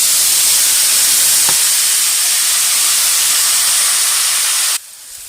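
Fine tomato paste from two medium tomatoes hits hot oil in a pan for egg gravy, setting off a loud, steady broadband sizzle that holds evenly and then cuts off abruptly near the end.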